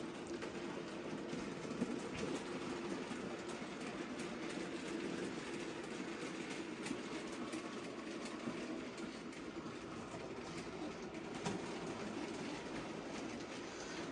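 An unfitted freight train rolls past steadily, a dense continuous rumble of rail cars with faint clickety-clack and occasional wheel squeal, moderately loud throughout with no voices.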